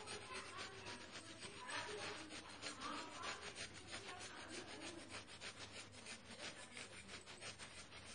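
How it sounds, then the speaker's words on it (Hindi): Fresh ginger is rubbed against a hand grater, giving a rapid, continuous rasping scrape with an even back-and-forth rhythm. The sound is close but quiet and is the only sound. "अदरक को कद्दूकस करके डाल रही हूँ"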